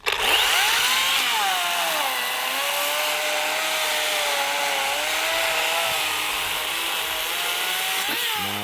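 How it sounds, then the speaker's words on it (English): A battery-powered chainsaw cuts through a 6-inch log outdoors, its motor whining steadily and loudly for several seconds with no break, then slowing briefly at the end. "I am actually pleasantly surprised at like a battery powered tool. It works really well."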